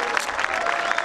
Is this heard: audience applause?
yes